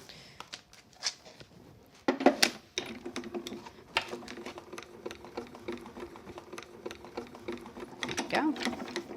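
The rollers of a hand-cranked cutting machine are turned through a clattering, ratcheting run of quick mechanical clicks and knocks, with a sharp thunk near the start and uneven bursts continuing close up.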